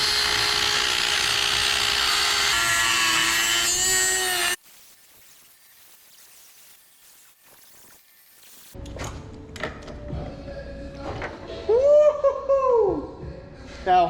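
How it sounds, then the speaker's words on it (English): A Dremel cutoff wheel grinds a mirror off a Honda Ruckus scooter, a loud high whine for several seconds that stops abruptly, followed by a quiet gap and then people talking and laughing. "we just need to grind this and grind this mirror off."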